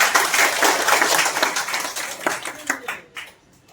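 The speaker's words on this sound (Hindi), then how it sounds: "एक बार जोरदार ताली हो सकती।" Audience clapping at a training event in Islampur, Bihar, a dense burst of hands that thins into a few scattered claps and fades out near the end.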